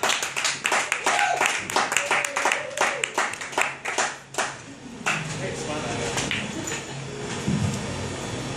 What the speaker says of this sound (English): Give a big round of applause for our OC.